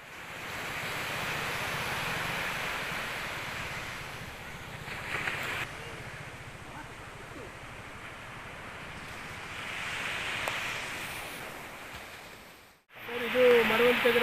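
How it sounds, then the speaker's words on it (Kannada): Sea waves surge and crash steadily along the eroding Maravanthe shoreline beside a breakwater, pounding against nearby houses, with gusty wind noise throughout and a brief break near the end before the roar resumes. "ಸಮುದ್ರದ ಅಲೆಗಳು ಮನೆಗಳಿಗೆ ಅಪ್ಪಳಿಸ್ತಾ ಇದ್ದು ಆಸುಪಾಸಿನ ಜನರು ಭಯಭೀತರಾಗಿದ್ದಾರೆ"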